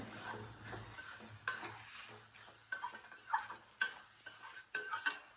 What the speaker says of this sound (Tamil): காரத்தக்கன தனி மிளகாத்தூள் போட்டுக்கலாம். போட்டு நல்லா வதக்கிடுங்க.